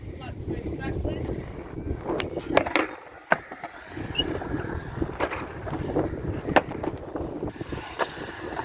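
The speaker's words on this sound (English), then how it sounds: "might as well just kick it off with a couple grinds, so I'll feeble stall that." Skateboard grinding and a feeble stall at an outdoor skatepark on a windy day, with scraping wheel and truck noise under heavy wind buffeting, a few sharp clacks of the board, and voices talking nearby.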